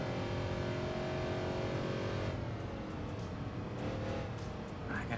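Corvette engine in the Enthusia Professional Racing video game on an Indianapolis-style speedway, a steady droning engine note holding pitch then easing off, continuous and fairly loud with no talk.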